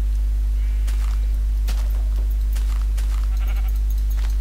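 Sheep bleating in the Minecraft game, several short bleats scattered across a few seconds over a strong steady low hum, moderately loud with no talking.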